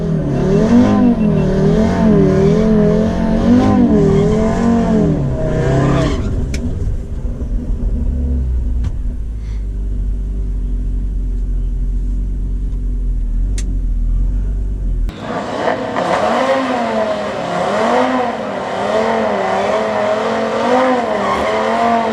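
An Audi RS3 Stage 2 and a Porsche 911 Turbo S drag race, loud engines revving and roaring with a rising drone, a quieter rumbling stretch in the middle, then another loud, sustained engine roar.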